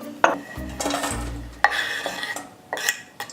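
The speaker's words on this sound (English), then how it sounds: "So chopping the leek, none of this chopping has to be really particular." A few knife chops through leek on a cutting board, with clattering of utensils and dishes between the cuts, close and irregular.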